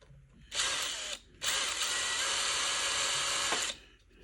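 A power tool deburring the inside of a metal tube for a scratch-built model airport security gate, whirring loudly in two bursts, a short one then a longer sustained run of about two seconds, with no talking.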